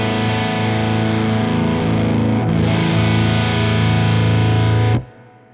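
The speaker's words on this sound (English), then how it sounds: "This is the sound of the guitar." Heavily distorted baritone guitar tuned to drop A, played through a dark-voiced Richie Kotzen amp, rings out as a thick sustained chord for about five seconds, loud and alone, then is cut off abruptly.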